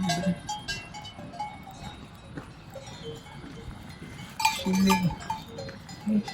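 Cows wearing cowbells graze an alpine pasture on a mountain climb in the Verzasca valley, the bells clanking faintly and irregularly from a short distance while a low moo or two sounds amid quiet outdoor ambience.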